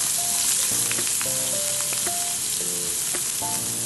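Onions sizzle and crackle steadily in hot oil, a continuous frying hiss with occasional faint clinks of a utensil against the pan.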